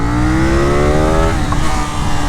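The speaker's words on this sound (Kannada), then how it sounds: "ಇದು ವೀಲಿ ಮಷಿನ್ ಇದು ಸೆಕೆಂಡ್ ಗೇರ್ ಅದೇ ನೋಡ್ರಿ" A KTM 890 Duke R motorcycle revs hard in second gear during a wheelie, a loud, close engine note climbing steadily in pitch for over a second before settling into a sustained roar.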